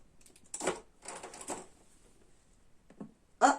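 Rustling, scraping, and shuffling sounds come in short irregular bursts, like hands digging through a bag, close by, ending with a sharper clatter.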